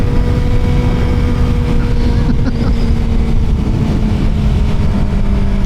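A Suzuki GSX-R 600 motorcycle engine drones steadily at highway speed, loud and close, with heavy wind rush over a constant low hum.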